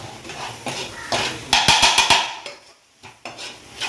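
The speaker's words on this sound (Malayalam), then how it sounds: "ഇത്ര കുരുമുളക് പൊടി നന്നായിട്ട് ഇങ്ങനെ വഴറ്റിയെടുക്കാം" Black pepper powder being sautéed in a pan in a Kerala home kitchen: a quick run of sharp spoon-on-pan scrapes and taps, then quieter stirring, with no talk.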